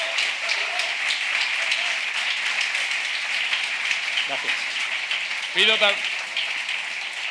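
Audience applause for a speaker at a book fair talk in Badajoz, steady sustained clapping filling the room throughout, with someone briefly speaking over it near the end.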